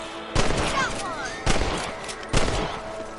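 Rifle shots ring out while hunting rabbits in Red Dead Redemption: three sharp, loud cracks spaced about a second apart, each trailing off into a short echo, with faint game background between them.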